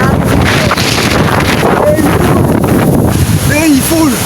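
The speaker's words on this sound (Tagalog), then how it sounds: "Sobrang hangin." Strong gusting wind roaring across the microphone on a mountain during an early-morning jog, loud and continuous with buffeting surges and a few faint whistling tones near the end.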